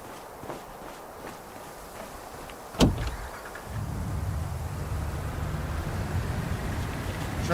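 A truck in the hunting game Way of the Hunter 2 slams its door, then the engine starts and settles into a low, steady rumble while driving, after soft footstep-like sounds.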